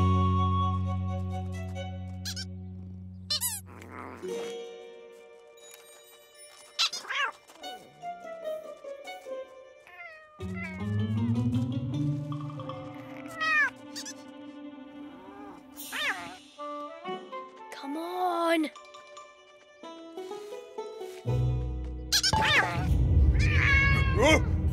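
Cartoon cat meowing and yowling repeatedly in an animated chase scene, with musical score and character voices talking over and between the cries.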